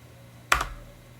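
A brief burst of two or three quick computer keyboard keystrokes while typing a web address, close and fairly quiet, standing alone in a quiet room.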